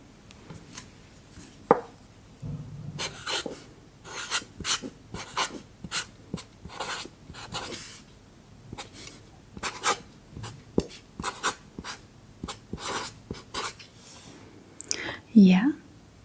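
A pen writing on paper during a soft-spoken Danish lesson, close scratchy strokes in short bursts across the whole stretch, with quiet whispered talk and breathing between them.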